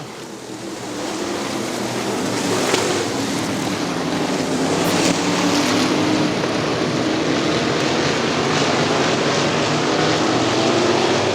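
IMCA modified race cars accelerate on a restart at Crystal Motor Speedway, a dense, continuous roar of many engines heard from a distance, swelling slightly and staying steady with no talk.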